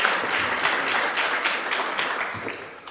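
A crowd applauds at a political talk event, a short burst of dense, mid-level clapping that slowly fades over about three seconds.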